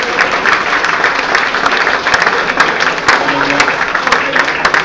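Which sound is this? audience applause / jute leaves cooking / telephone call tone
audience applause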